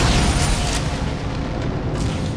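Delayed explosion detonating in the Unreal 2 video game, a loud, broad rumbling boom that opens the clip and rolls on as a sustained roar for the remaining seconds.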